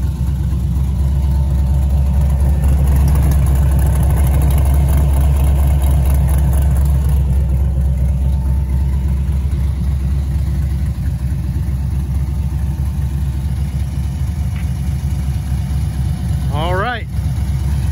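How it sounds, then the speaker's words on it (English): An LS-swapped Pro Touring Camaro with UMI Performance parts idles steadily, its exhaust giving a loud, deep, continuous rumble heard close up for the whole stretch, with a brief change near the end. "let you hear it running, what the exhaust sounds like"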